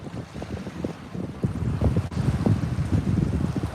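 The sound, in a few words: wind at a reservoir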